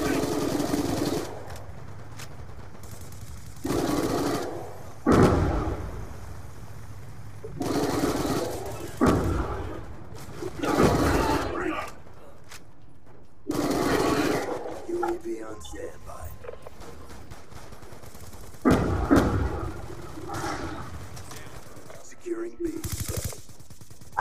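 MSMC submachine gun fire in Call of Duty Black Ops 2 multiplayer, heard as repeated bursts of rapid shots spread through the match, mixed with game sounds and frequent talk over the top.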